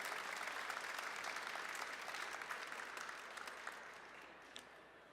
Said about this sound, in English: I would like a round of applause for my lovely wife, Mary.